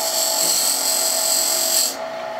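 Wood lathe turning a tenon with a skew chisel ground square, a loud steady high whine with a scraping cut that stops abruptly near the end, leaving a quieter hum.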